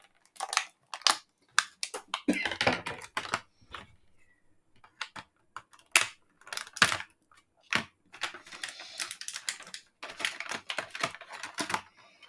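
Hasbro Masters of the Universe Teela toy being freed from tight packaging and plastic straps, with close, irregular clicks, snaps and crinkly plastic rustles in uneven bursts and short pauses, no talk.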